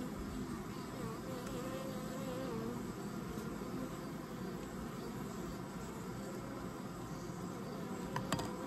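Honey bees fan at the entrance of a 20-frame horizontal Layens hive, making a faint, steady droning buzz that holds evenly throughout with no voices.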